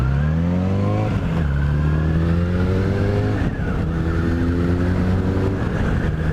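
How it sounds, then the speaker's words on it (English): A car passes close by with a loud, continuous engine drone that rises and falls in pitch as it approaches and moves away. "Is that car stopping?"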